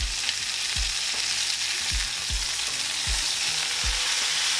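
Ribeye steaks fry in a pan with a loud, steady sizzle and spatter. A few soft low knocks sound from the pan along the way.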